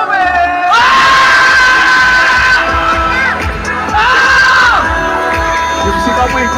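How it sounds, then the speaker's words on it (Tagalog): A lively crowd at a holiday team showdown game cheers and shouts in two loud bursts, close and energetic, with an announcer's voice around it. "Yung sigaw mo yung pinakamalakas na Romy, ah."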